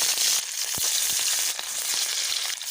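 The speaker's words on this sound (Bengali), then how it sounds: "আমি তেল খুব ভালোভাবে গরম করে নিয়েছি এবারে এক এক করে কড়ায় দিয়ে দেবো মাছগুলো" Rohu fish pieces frying in hot oil in a wok, a steady bright sizzle with small pops and crackles, close and continuous.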